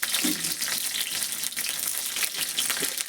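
Black cumin seeds and whole garlic cloves sizzling in hot oil, a steady bright hiss and crackle that runs evenly throughout with no voices.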